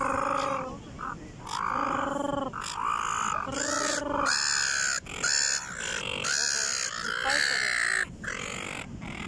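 Seagulls on Burleigh Beach in Australia squabble over food, giving loud, close, repeated harsh calls and squawks that overlap one after another, with a voice speaking now and then.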